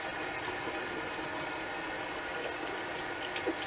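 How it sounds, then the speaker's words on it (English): A shaving brush rinsed under a running tap: a steady, even rush of flowing water, close and moderately loud, with a brief splash near the end. "And then we'll rinse the brush."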